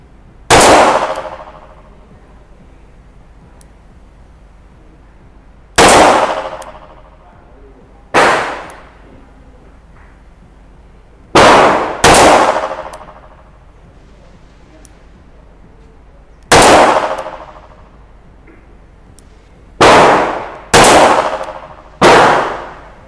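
Sharp gunshots from an old Smith & Wesson Model 51 revolver ring off metal targets at a shooting range, about nine loud reports in uneven groups, each followed by a bright metallic ring that decays over a second or two.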